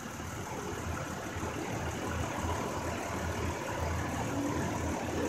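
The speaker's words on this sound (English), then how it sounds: "Fans coming on now, so that's good." A BMW 525i idling with its radiator cooling fans running, a steady, even whooshing hum with a low engine rumble underneath, constant and close throughout.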